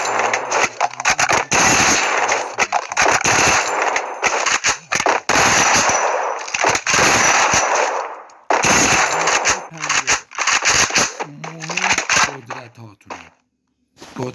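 Rapid bursts of gunfire fill a shooter video game session, with dense automatic volleys and single shots repeating loudly across the whole stretch, broken by brief gaps.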